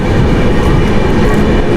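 The Dakshin Express 12722 passenger train, travelling from Hazrat Nizamuddin to Hyderabad in rainy weather, rumbles loudly and continuously with a close, heavy wheel-and-carriage roar.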